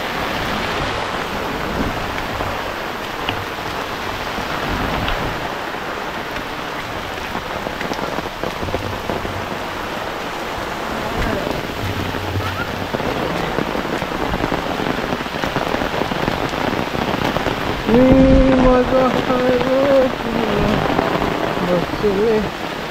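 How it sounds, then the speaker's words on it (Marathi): A loud, dense downpour roars continuously, drowning everything in a thick wash of rain, with a brief voice-like sound near the end. "पाऊस सुरू झालाय आणि मुसळधार पाऊस सुरू झालाय एकदम."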